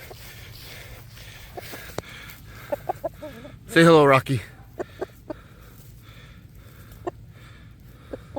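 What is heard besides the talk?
chicken clucking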